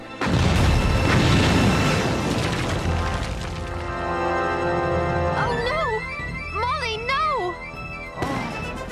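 Cannon fire rings out in an animated Revolutionary War battle at a fort. A heavy boom opens the scene, followed by rumbling blasts, then clanking mechanism noises and brief whistling tones toward the end.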